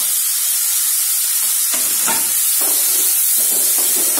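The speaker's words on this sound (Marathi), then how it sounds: "आता याच्यामध्ये आपण टमाटर टाकून घेऊया" Tomatoes hit hot oil in a pan of aloo palak, a loud, close, constant sizzle and hiss with scraping stir strokes breaking through at intervals.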